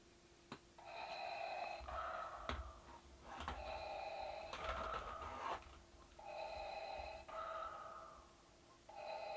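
Electronic mechanical breathing from a Star Wars Black Series Anakin Skywalker figure, Revenge of the Sith 20th anniversary edition, repeats in slow rhythmic inhale-exhale cycles, faint and close, with a few clicks and a low steady hum.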